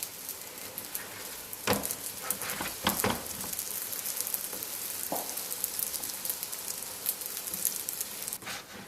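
Soft leavened flatbread made from a flour-and-water dough frying in a pan, giving a steady, quiet sizzle throughout with a few louder crackling pops near the start and end and no voices.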